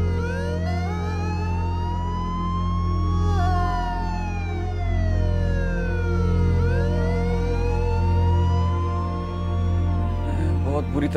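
An ambulance siren wails in long rising and falling sweeps, loud and continuous over a low, steady rumble.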